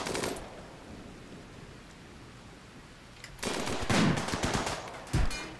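Gunfire in a RimWorld video game battle, with scattered short bursts of shots, a quieter stretch, then louder rapid volleys near the end, no talk.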